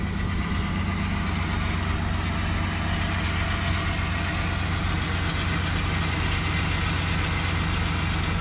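A 1992 Chevrolet Camaro 25th Anniversary convertible, a low-mileage survivor, idles steadily with a smooth, continuous engine rumble, close and constant throughout, with no talking.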